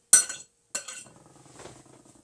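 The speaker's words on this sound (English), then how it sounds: "So now we're going to add half a cup of vegan cane sugar. You can give that a stir." A spoon stirs vegan cane sugar into a vegan chocolate chip banana nut bread mixture in a bowl, with two quick bursts of metallic clinks followed by softer, fainter scraping.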